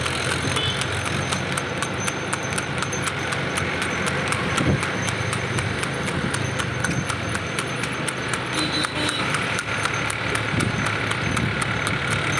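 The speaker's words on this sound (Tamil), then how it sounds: "குதிரை வந்து எவ்வளோ அழகாக போயின்னு இருக்குது பாருங்கள்." A native race horse trained for rekla cart racing in Tiruvarur district runs with steady clip-clopping hooves, heard as a continuous dense clatter over engine-like rumble and outdoor noise, with no pauses.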